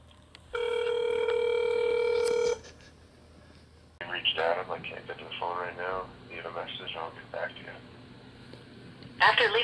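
A telephone line emits a steady electronic tone for about two seconds as a prank call is placed, followed by a brief pause and then people talking over the connection.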